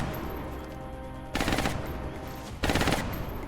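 Bursts of suppressing machine gun fire in XCOM: Enemy Unknown, two loud sustained volleys over a steady low game backdrop, the second starting after a short pause.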